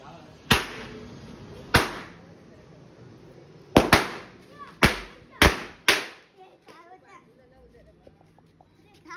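Diwali firecracker bombs explode outdoors in six loud, sharp bangs spaced one to two seconds apart, each followed by a short decaying echo, then the scene falls quieter.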